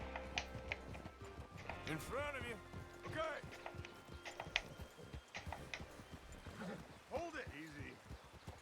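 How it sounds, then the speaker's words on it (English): A horse in Red Dead Redemption 2 clops along at a steady walking rhythm, the hoofbeats soft and close beneath ongoing conversation between several voices. "Hey, control that horse."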